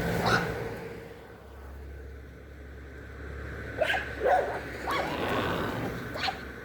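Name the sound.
dogs barking outdoors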